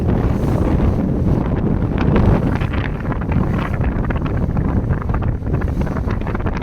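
A boat cutting through waves off Bilene beach, steady roaring rush of water and hull noise heavily buffeted by wind on the microphone, loud and continuous.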